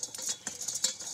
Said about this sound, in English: Now let's mix that. Now we whisk.